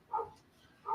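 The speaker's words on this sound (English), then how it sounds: "that's a husky" A husky barks next door, two short bright barks, one near the start and one at the end, with a quiet gap between them and no talking.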